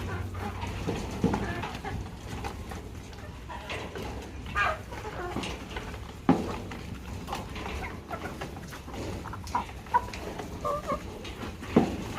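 Native chickens clucking on a small farm while being fed rice bran, with scattered, moderately close clucks and calls over a continuous background.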